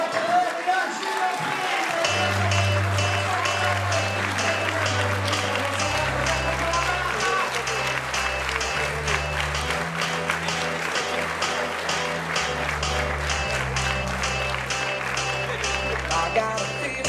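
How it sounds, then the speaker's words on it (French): Loud applause from an awards ceremony crowd rises over booming pop music with a pulsing bass line, the clapping blending into the beat and running continuously. "un tonnerre d'applaudissements pour la catégorie de la Junior"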